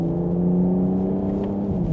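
A BMW M440i Gran Coupe gathers speed on an open road, its engine note a steady, close droning hum with a strong low rumble that holds even and slowly rises, with no talking over it.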